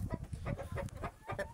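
A young rooster gives a series of short, rough, broken crowing and clucking calls, close and fairly quiet, with no talk over them.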